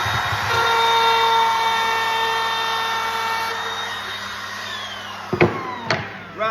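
A handheld router cuts a straight line through wood with a steady, high-pitched motor whine that runs for several seconds and then winds down, followed by a few sharp clunks near the end.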